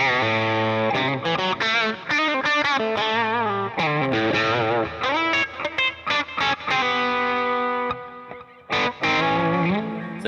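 An electric guitar runs through a Fractal Axe-Fx II on the Buttery preset, playing quick, twangy country licks with a warm, slightly driven tone, many short clean-attack notes and bends, close and with no voices.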